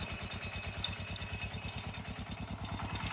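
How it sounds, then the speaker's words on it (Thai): A small single-cylinder 11-horsepower walk-behind tractor engine with steel wheels chugs steadily nearby, its rapid even putt-putt pulses carrying on throughout with some metallic clatter. "รถไถเดินตามมาไถนาแบบนี้พี่น้องนี่"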